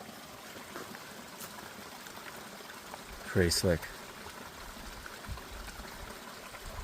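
A small stream trickles beside a hiking trail on the Georgia section of the Appalachian Trail, a soft, steady wash of water running throughout, with a brief spoken remark partway through.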